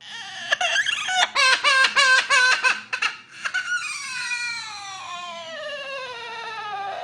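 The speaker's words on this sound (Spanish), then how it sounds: "los marineros escucharon el llanto de un niño" A child cries and sobs in loud, broken bursts, then gives a long drawn-out wail that slowly fades, heard alone without other voices.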